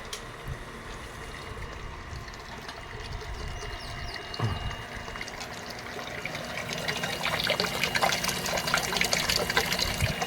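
A weak stream of water runs from a hand pump well in the hot dry season, a steady trickle and splash that grows slightly fuller toward the end, with no talk.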